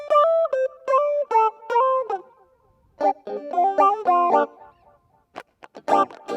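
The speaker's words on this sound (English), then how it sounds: "And then I have a little guitar lead that happens here." A short electric guitar lead from a song, a string of bright, honking single notes in quick phrases separated by brief gaps, ending in a few scattered stabs.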